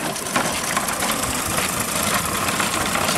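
A radio-controlled MAN 6x6 truck with a freshly adjusted clutch climbs a gentle slope, giving a steady, close, buzzing motor whine with a faint rattling vibration and no voices.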